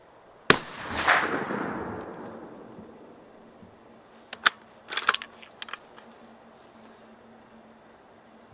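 A single sharp rifle shot cracks close by and rolls away into a long fading echo, followed by metallic clinks of spent brass and handling noises at an outdoor spot.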